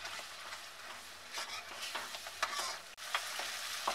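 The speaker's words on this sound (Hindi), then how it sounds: "हम डाल देंगे काजू और अनियन का जो पेस्ट है वो भी हम इसी में डाल देंगे और कुछ मिनट इसे और पका लेंगे" Cashew and onion paste sizzling and frying in a pan while being stirred for chicken changezi, a steady hiss broken by scraping spoon strokes, close and moderately loud, with no talking.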